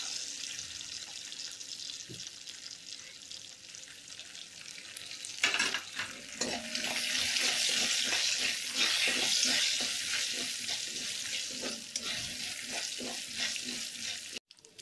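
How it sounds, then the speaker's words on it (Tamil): Mustard seeds and urad dal fry in hot oil for a raw banana poriyal, a steady close sizzle with scattered crackles and popping, rising louder midway as a spoon stirs and scrapes the pan. "இப்போ எண்ணெயை ஊற்றிட்டு கடுகு உளுத்தம் பருப்பை போட்டுக்கிறோம்."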